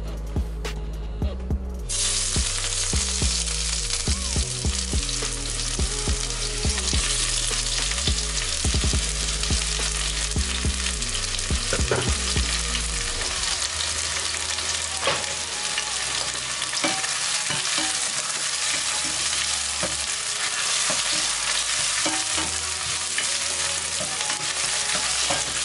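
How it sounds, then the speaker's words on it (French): Onions dropped into heated oil sizzle loudly and steadily for the whole stretch, with a broad hiss and occasional scraping as they are stirred around the pan, no voices present. "maintenant que mon huile a chauffé, je vais venir mettre mes oignons."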